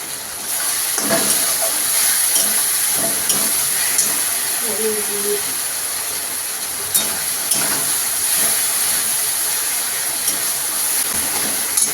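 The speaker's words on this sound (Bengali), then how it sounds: "এবার আমরা কাশ্মীরি গুঁড়ো লঙ্কা দিয়ে দিচ্ছি" Kashmiri chili powder hits hot oil in a pan and fries with a loud, continuous sizzle and hiss. It comes with occasional scraping stir strokes, and a voice speaks faintly over the frying.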